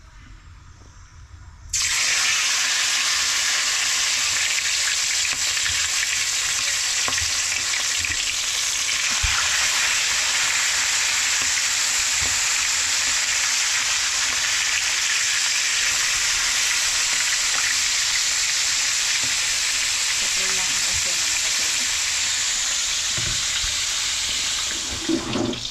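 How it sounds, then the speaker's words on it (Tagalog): Loud, steady sizzling of large king mackerel fish frying in hot oil. It starts abruptly after a brief quiet moment and crackles on without a break. "Simulan na tayo mag-prito."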